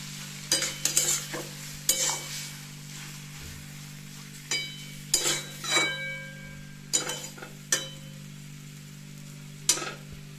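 Intermittent scraping and clinking of a spatula stirring raw mango pieces in a wok, in short bursts over a steady low hum, with a faint sizzle.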